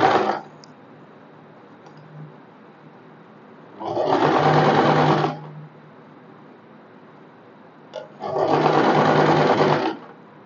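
An electric sewing machine runs in bursts while top-stitching an umbrella frock, with three whirring runs of about one to two seconds separated by quiet gaps, close and clear.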